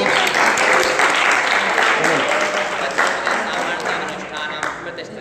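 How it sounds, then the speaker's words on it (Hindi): Students in a Jain religious study class clap together on cue, a dense, steady patter of many hands filling the room for several seconds, with voices talking over it. "ताली बजाओ"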